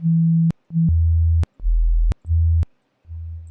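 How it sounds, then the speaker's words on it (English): Pure synthesized sine tones for a drum and bass production, stacked to build a harmonic, play as a series of clean steady notes that switch pitch in separate held blocks, separated by sharp clicks and short silences. "let's go ahead and add an additional sine wave. We're going to make a harmonic."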